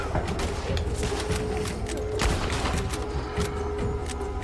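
Gunfire in Red Dead Redemption 2 as rapid overlapping shots crackle over a dense, busy mechanical background, with sharp reports recurring every fraction of a second through the whole stretch.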